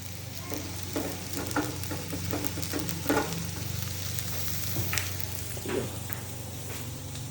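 Chopped onions sautéing in a pan for chicken curry, a steady soft sizzle with faint stirring scrapes and clinks, heard alone at close range with no talking.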